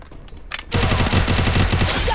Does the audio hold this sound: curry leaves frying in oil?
no